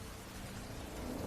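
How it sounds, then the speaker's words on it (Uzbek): Steady rain in a mystical horror audio story, falling as a constant dense hiss with a low rumble beneath, even and unbroken throughout, with no voices. "Yomg'ir hali ham tinay demasdi."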